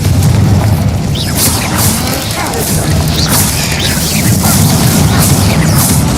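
A Confringo spell explosion in the video game Hogwarts Legacy, heard as a loud, dense booming blast with crackling debris that runs continuously for the whole clip and shows no talk.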